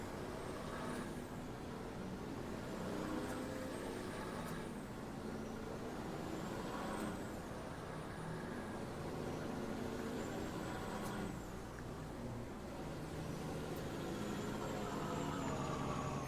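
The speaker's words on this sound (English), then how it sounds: "So now we have 2 trucks running." Grain-hauling trucks running in Farming Simulator 19 on a Wild West farm map, a continuous low engine rumble with periodic rising whines as gears shift, steady and moderately loud with no voices.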